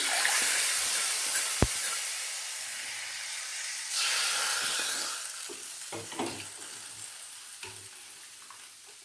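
Loud, hissing sizzle of a spice tempering hitting hot oil for gooseberry rasam, steady and close, fading slightly, with a few clinks and small knocks partway through.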